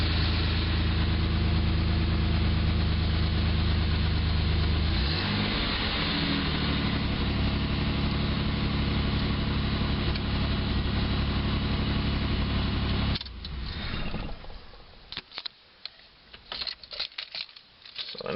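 A V8 test engine idles steadily through a 2.5- or 3-inch exhaust, a loud, continuous low rumble that dips briefly, then fades as the run ends, leaving scattered clicks and rustles.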